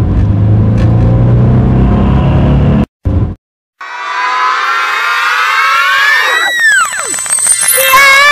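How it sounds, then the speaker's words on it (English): A taxi car drives by loud and close, its engine revving into a rising, warbling whine with sweeping tonal sirens overhead, cut by a brief gap of silence partway through. "Taxi."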